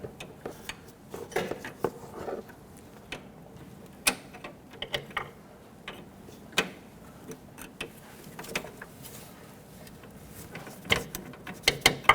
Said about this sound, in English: take that wrench and just move that nut back and forth, just to try and help clean those threads a little bit